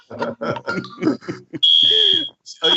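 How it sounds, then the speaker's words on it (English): A smoke detector under test sounds a loud, piercing steady beep twice in a building, with someone talking in between. "In my building, they sent out a thing this morning that they're testing these smoke detectors."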